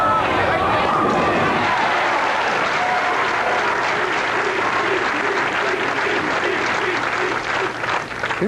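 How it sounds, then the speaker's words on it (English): Golf gallery at the 1982 Greater Hartford Open roaring with sustained cheering and applause, a dense, loud crowd wash that holds steady throughout with no pauses. "The crowd picking up the chant, Pete, Pete, Pete."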